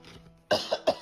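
A quick series of about three harsh coughs, close and fairly loud, after a brief quiet stretch.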